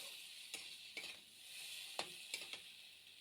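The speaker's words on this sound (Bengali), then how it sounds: "গরম মশলাটা একসাথে দিয়ে দিলাম, দিয়ে খুব ভালো করে ভেজে নিলাম।" Garam masala spices fry in a pan for an aloo papad dish, with a soft, faint sizzling hiss broken by five or so quick scraping stirs. No one speaks.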